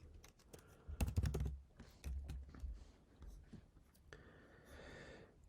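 Typing an app registration name on a computer keyboard, with a quiet, close burst of uneven clicking keystrokes including a short cluster of sharper taps, alone in a silent room.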